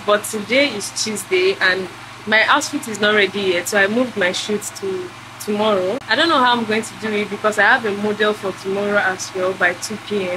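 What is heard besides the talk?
generator running in the background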